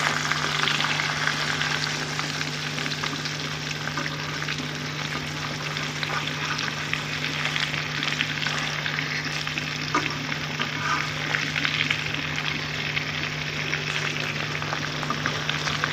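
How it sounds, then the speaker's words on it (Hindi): Fish fries steadily in a hot pan, one side cooking, giving a dense, continuous sizzle with a low hum beneath and no talk. "इसको हम 4 से 5 मिनट इसको हम फ्राई करेंगे एक साइड को"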